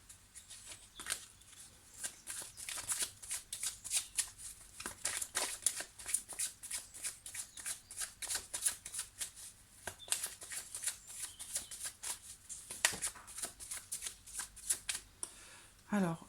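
Amethyst oracle cards are shuffled for a love reading, producing rapid, repeated riffling flutters and soft card slaps in close, uneven bursts that carry on throughout.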